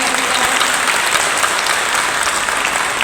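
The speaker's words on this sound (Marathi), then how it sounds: "एकदा सावित्रीबाई फुलेंसाठी सर्वांनी जोरदार टाळ्या या ठिकाणी" Loud, dense applause from an audience at a ceremony honouring Savitribai Phule and her daughters, steady and continuous for the full stretch, with no voices standing out.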